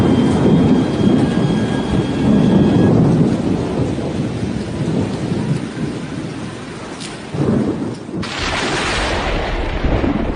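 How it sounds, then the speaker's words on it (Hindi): Loud, continuous roaring wind from Super Cyclone Amphan in Odisha and West Bengal with a broadband rush and heavy rain, surging in strength throughout, with a sharp crack partway through. "ये शोर है उम्पुन तूफान का,"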